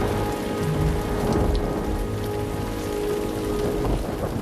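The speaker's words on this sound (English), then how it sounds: "It could be wet, it could be rainy, it could be cloudy." Heavy rain pours steadily onto surfaces, a dense close hiss with a low rumble of thunder underneath throughout, with no voices.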